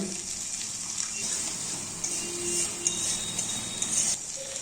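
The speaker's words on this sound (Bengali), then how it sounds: "মশলা যাতে পুড়ে না যায় তার জন্য দিয়ে দিচ্ছি সামান্য একটু জল" A little water poured into spices frying in a pan, making a close, steady hissing gush over the sizzle that fades near the end, with no one talking.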